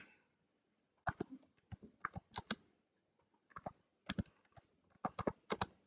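Keys clatter on a computer keyboard in bursts of quick taps separated by short pauses, close and clear with no voices over them.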